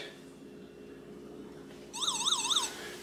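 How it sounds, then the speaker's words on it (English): Warbling electronic alert from a Raspberry Pi Pico microwave oven monitor, sounding about three rising-and-falling siren-like sweeps in under a second, close and fairly loud over a quiet room hum. "it's realizing there's food left in there, so it's doing the alert."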